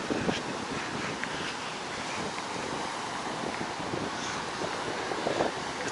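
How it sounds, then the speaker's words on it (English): Strong wind buffets the microphone on Indian Rocks Beach, Florida, on a windy November day. A constant roaring rush blends with the surf and runs unbroken the whole time. "But even on this windy day, still some people out here."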